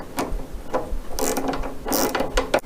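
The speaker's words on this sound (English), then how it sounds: "Tighten the steering boss using a 5mm Allen key and a 10mm spanner." Metal clicks and ratcheting from tightening the steering boss on a Tillotson T4 mini steering assembly with a 5mm Allen key and 10mm spanner: close, repeated bursts of rasping mechanism noise.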